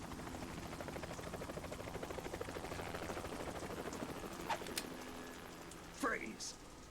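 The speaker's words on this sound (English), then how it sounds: "You will be on the helicopter out of here now." A helicopter's rotor beats in a steady, rapid thump inside the Metal Gear Solid 2 video game, with a few brief sharp effects and voice fragments near the end.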